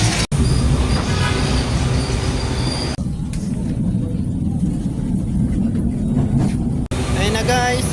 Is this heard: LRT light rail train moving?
yes